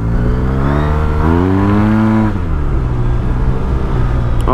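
A Yamaha TMAX maxi-scooter with 14 discs accelerates from a start, its engine note climbing loud and close, dipping, then settling into a steady drone.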